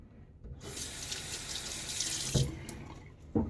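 A bathroom faucet runs in a steady hiss for about two seconds during a wet shave, with a few clunks and splashes as hands reach into the flow.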